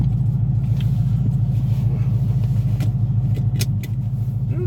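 A Ford Mustang with a freshly installed clutch drives at steady low speed, its engine giving a continuous close rumble with a few faint higher clicks and no talk.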